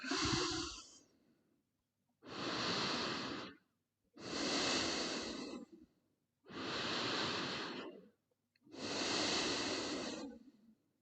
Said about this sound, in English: Taking slow breaths here.